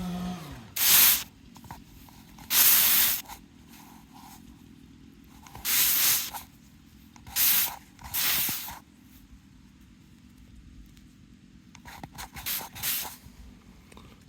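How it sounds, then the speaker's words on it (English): Repeated short bursts of hissing water spray on a freshly dug-up coin, each lasting about a second, separated by quiet pauses, with a faster cluster of sprays near the end. "Let me spray it off a little bit and see what we see."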